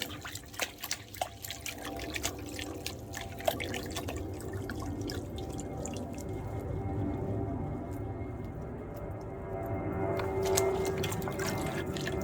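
Potted perennial roots being rinsed in water to wash off old soil and perlite, with steady splashing, dripping and trickling up close, continuous throughout with no talking.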